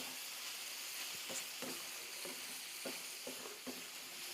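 Chili ingredients, including jalapeno, sizzling and frying in a pot, a steady close hiss with occasional stirring scrapes.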